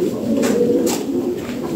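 Caged top-quality pigeons at a sale coo steadily in low, continuous murmurs, several birds overlapping close by with a faint brighter flutter or call now and then; no one speaks.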